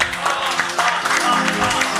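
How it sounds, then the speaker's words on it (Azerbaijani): A crowd applauding, with steady clapping that continues throughout at close range and voices mixed in. "Ona göre biz onu alqışlayırıq"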